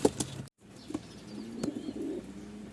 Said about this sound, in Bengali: হবিগঞ্জ মাধবপুর কাউন্টার 2 জোড়া কবুতর চলে যাচ্ছে